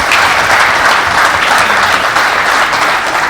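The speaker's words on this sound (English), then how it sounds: "let's get a round of applause for our partner panelists." Sustained applause from a conference audience for panelists at an ag retail partner summit, dense and loud clapping throughout with no talking.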